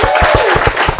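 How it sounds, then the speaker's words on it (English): A brief patter of handclaps from an audience thanking presenters at a live event on democracy, a few sharp claps in quick rhythm with a faint voice over them. "Give yourself a round of applause."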